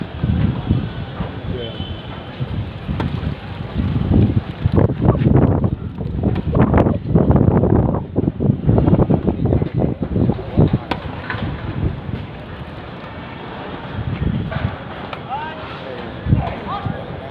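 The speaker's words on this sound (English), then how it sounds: "wind is blowing towards the camera, so this drop shot didn't work" Outdoor wind blows into the microphone at a 70-plus tennis final match, a steady gusting rumble under ongoing commentary, with ball strikes and court sounds audible.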